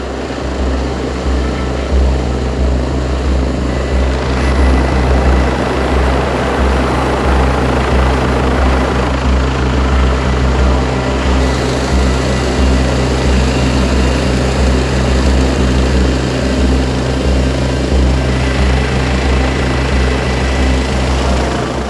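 Loud, steady mountain rescue helicopter rotor thump and engine roar close by, droning continuously without pause.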